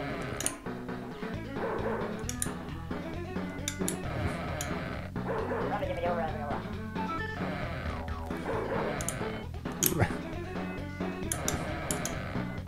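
Dog barking in the Amiga video game Bobo, short sharp barks and yips scattered over busy game music and effects, fairly loud and up front.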